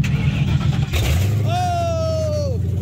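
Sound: car engine starting, vehicle at police auction

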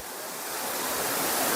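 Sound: Aruvikkachal waterfall in Kottayam

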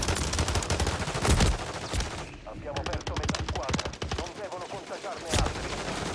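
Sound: machine gun fire in a video game

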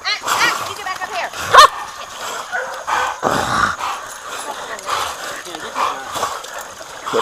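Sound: hunting dog barking at a boar in water

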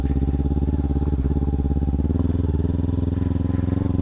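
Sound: Kawasaki Ninja 300 motorcycle engine riding off road

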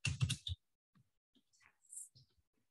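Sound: typing on a computer keyboard

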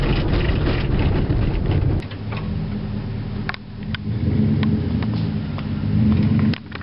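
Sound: lifted V8 truck engine running

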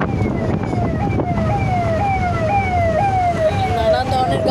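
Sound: ambulance siren passing taxi on bridge

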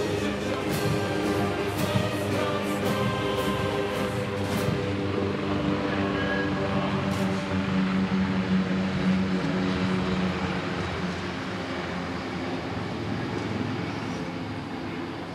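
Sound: military helicopters flying over Polish Armed Forces Day parade

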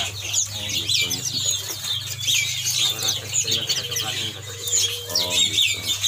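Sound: birds at a bird shop kiosk

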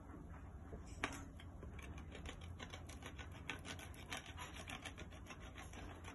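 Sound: crayon being shredded onto paper

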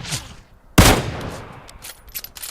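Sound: gunfire in video game PUBG Mobile

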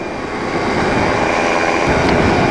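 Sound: Flylight ADAM light aircraft in flight

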